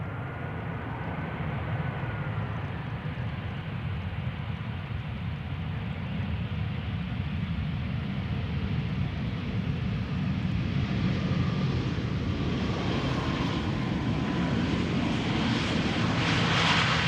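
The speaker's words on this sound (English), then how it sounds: "A320 from EasyJet, arriving from London Luton, flight 22511" An EasyJet Airbus A320 jet arriving at Amsterdam Schiphol, making a steady, fairly distant roar of engines that swells slightly as it passes with a faint whine on top.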